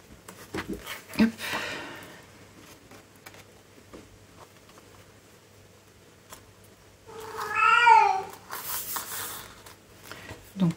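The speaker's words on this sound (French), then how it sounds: "elle risque de miauler un petit moment" A cat meows in a drawn-out, wavering call near the end, after quieter rustling and faint shuffling earlier on.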